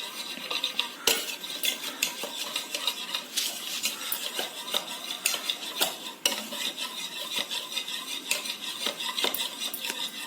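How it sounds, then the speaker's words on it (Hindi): Chocolate cake batter stirred by hand after milk is poured in, a spoon or whisk scraping and clinking steadily against the bowl in a continuous close rhythm, with no talking. "अब मैं इसमें ऐड करूंगी मिल्क. इसको अच्छी तरह से मिक्स कर लेंगे."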